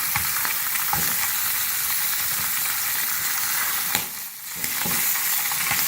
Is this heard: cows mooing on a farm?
no